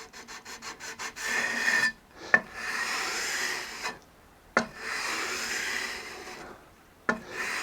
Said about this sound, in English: the fret end file removes a lot of the material without being too coarse for the wood